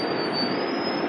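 A Vande Bharat train passes nearby in a brief, loud rush of rail noise, with a steady high metallic whine of wheels over the broad roar.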